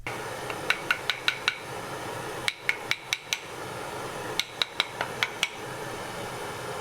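A wooden block taps a knife tang down into its handle on a vintage knife, in three quick bursts of four or five sharp, bright knocks with short pauses between, close and alone.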